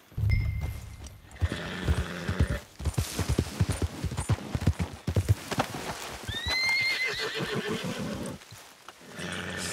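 Horses in the Red Dead Redemption 2 game clop along with steady hoofbeats and neigh loudly, with rising whinny calls near the end, close and prominent over outdoor game ambience.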